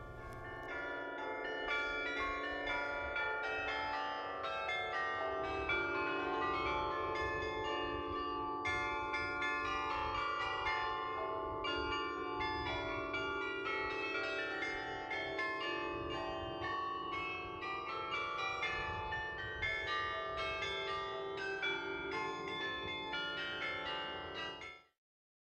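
Carillon bells at the Netherlands Carillon in Arlington, Virginia, beside Arlington National Cemetery, ringing a continuous melodic peal of overlapping tones for about 25 seconds with no talking, ending abruptly.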